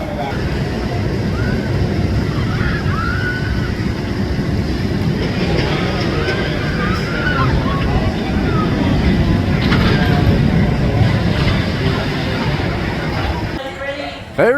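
The Nitro roller coaster at Six Flags Great Adventure, ridden in the back row, gives a loud continuous rumble and rush of wind with rising and falling roar. Voices talk and shout over it throughout.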